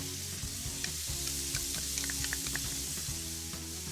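Minced garlic sizzles steadily in a pan with onions, fennel, butter and olive oil, a constant close frying crackle with faint stirring scrapes and no talk.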